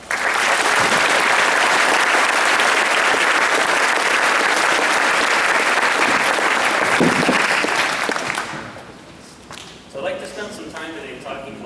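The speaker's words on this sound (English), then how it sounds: "how about a round of applause for our scholars?" An audience applauds scholars at a Scholar Club event: sustained loud clapping for about eight seconds, then fading out as a voice begins speaking.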